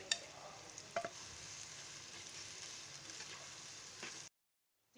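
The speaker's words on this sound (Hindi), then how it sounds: "प्याज डालूंगी और प्याज को हम लाइट गोल्डन ब्राउन फ्राई कर लेंगे।" Onions fry in leftover kofta oil in a pan for biryani, giving a steady, soft broadband sizzle with a few brief stirring clatters near the start, then cutting to silence near the end.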